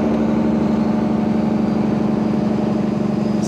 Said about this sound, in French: Ça, c'est le frein moteur sur les soupapes